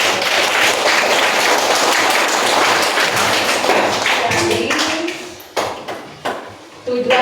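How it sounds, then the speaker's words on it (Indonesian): Clapping from a class audience during a peer teaching observation session, dense at first and then thinning into scattered claps and taps, with some voices and noise in the room. "Kita tepuk tangan dulu untuk"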